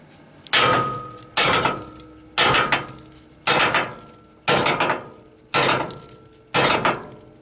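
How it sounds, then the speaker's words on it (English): A hammer strikes a trailer tongue in seven loud, evenly spaced metallic whacks, each ringing briefly before the next blow, close up. "I'm going to whack attack it with the hammer."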